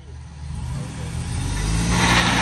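A Ford F250 truck on 44-inch Boggers revs with a steady, rising engine roar as throttle builds for a burnout, loud and continuous with no speech over it.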